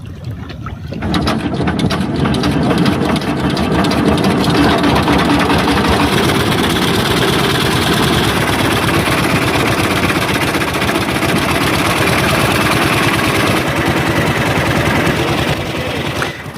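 A river boat's engine idles and then runs steadily on a Sundarbans river, a loud, close, continuous low mechanical drone with a rhythmic chug that holds almost unchanged to the end.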